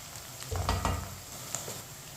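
Garlic and onion fry gently, browning while a spoon stirs them, a soft sizzle broken by a couple of quick scraping strokes.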